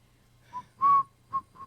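A person whistles a short tune in four brief notes, the longest and loudest in the middle, clear and close with no talk around it.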